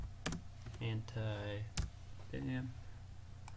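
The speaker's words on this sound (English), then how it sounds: "start typing" Clicky typing on a computer keyboard, irregular keystrokes tapping away close up while someone talks over them.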